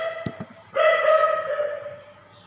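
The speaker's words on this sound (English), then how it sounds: "You don't bother about that barking of the dog." A dog barks in the distance, giving a few short, sharp barks followed by a longer drawn-out howl-like yelp, heard faintly from indoors with no talking.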